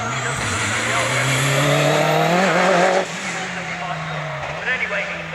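Stephen Moore's race car revs hard at the Prescott hill climb, a loud sustained engine note with climbing harmonics and tyre squeal that suddenly drops away to a quieter idle and distant rumble.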